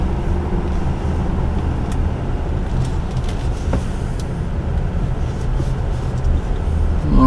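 Cabin drone of a 2021 Jeep Grand Cherokee L with its V6 engine rolling around a block, a steady low rumble of engine and road noise, even and continuous throughout with a faint click near the end.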